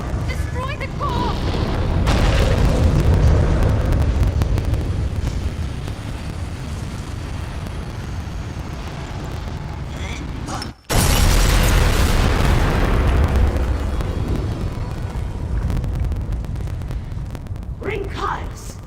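A core explodes in Elder Scrolls Online: a sustained, loud, rumbling blast that roars for seconds, cuts out abruptly, then bursts again into another long booming roar that slowly fades.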